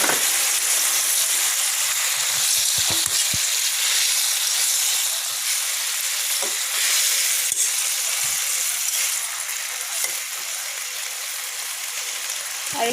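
Ground mustard paste is added to a pan of frying tomatoes, giving a loud, continuous sizzling hiss close by, with occasional faint clinks and no talking.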